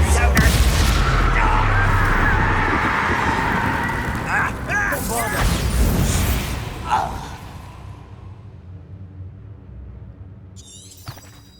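Heavy, booming blasts from the Confringo blasting spell in Hogwarts Legacy fill the first several seconds amid chaotic combat noise and shouted voices, then the roar tapers off into quieter ambience with a faint sharp tick near the end.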